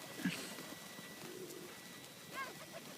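A large flock of pigeons at a feeding spot by water, with soft cooing and bird calls over a steady outdoor background. There are brief bursts of fluttering and chatter.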